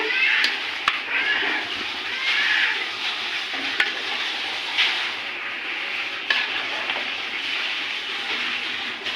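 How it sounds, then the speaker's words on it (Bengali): Meat being mixed in a hot cooking pot, a dense continuous sizzle with scraping and stirring strokes throughout, plus a few sharp clicks of the utensil against the pot, close and loud. "এই যে আমি এখন মাংসটা দিয়ে ভালো করে মিক্স করে নিচ্ছি"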